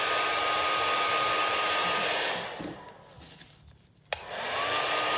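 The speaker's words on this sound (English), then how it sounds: "I hit this with a hairdryer." Hair dryer blows on a prop, a loud steady whoosh that fades as it is switched off, then a click before it roars back on at full strength.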